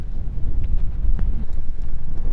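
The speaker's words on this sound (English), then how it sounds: "The wind makes me anxious." Wind gusts across a Las Vegas golf course, buffeting the microphone with a steady, loud, low rumble that rises and falls in uneven bursts, with no voices.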